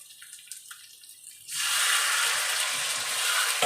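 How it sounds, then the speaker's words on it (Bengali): Water is poured into a cooking pot of potato curry (aloo dum), starting with a few faint drips and then becoming a steady, close, hissing pour that continues without talk. "জল দিলাম।"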